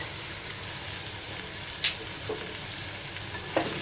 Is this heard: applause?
no